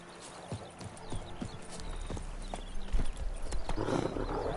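Horse hooves in Witcher 3: The Wild Hunt clip-clop in a steady trotting rhythm, close and clear, as the ride gathers pace amid rustling ambience and a rising rush of wind.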